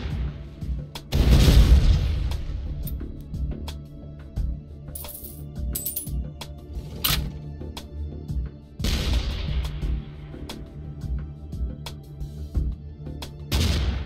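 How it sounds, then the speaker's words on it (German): A nuke detonates in the tank artillery game Shellshock Live, a loud low boom that rumbles for a second or two, followed by scattered game effects and a second burst of impact noise later. "Und da haut einer direkt einfach einen Nuke raus."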